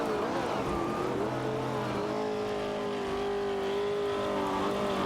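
Engines of a Chevrolet Camaro 70 and a Holden Torana A9X racing wheel to wheel in a video game, a steady droning engine note holding a sustained pitch with a fainter second motor underneath, continuous and close throughout.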